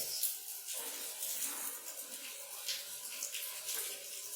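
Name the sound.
running water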